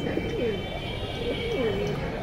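Pigeons coo softly nearby in low rolling calls, repeating a few times over a constant background hum.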